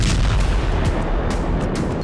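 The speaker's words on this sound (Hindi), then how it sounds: "उसके बाद धमाके होते हैं।" Explosions rip through a cargo ship at sea, a dense, continuous roar of booming blasts with sharp bursts on top, loud and sustained throughout the two seconds.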